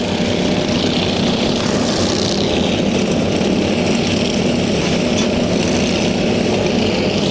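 Tractor engines roar continuously and loudly during a bash-for-cash tractor demolition race, a dense unbroken mechanical drone with rising and falling revving and no pauses.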